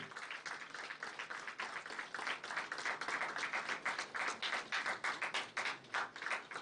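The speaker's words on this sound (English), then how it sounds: "A huge round of applause, everyone." A conference audience applauds steadily at an international management and research conference, a dense, continuous patter of many hands clapping at an even level throughout.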